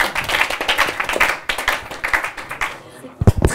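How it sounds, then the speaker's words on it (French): Live applause for actors closing an acting masterclass, a dense burst of many hands clapping at close range with cheering voices mixed in, the clapping briefly thinning before a few loud final claps. "On peut les applaudir, énorme,"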